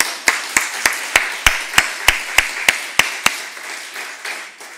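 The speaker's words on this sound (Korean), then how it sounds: "권사님들 박수." A church congregation at a special Saturday evening service claps in steady unison for the senior deaconesses, about a dozen sharp, evenly spaced claps that ring out in a reverberant hall and then trail off.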